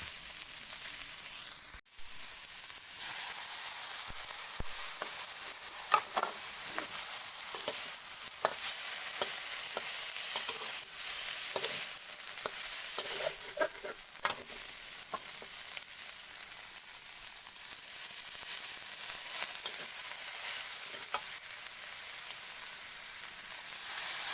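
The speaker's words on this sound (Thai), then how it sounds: "คลุกเข้ากันให้เข้ากันครับไฟอ่อนๆครับ" Eel pieces sizzling and being stirred in a pan over low heat for a Thai spicy stir-fry, a soft continuous hiss with scattered scraping clicks of the spatula, no voices.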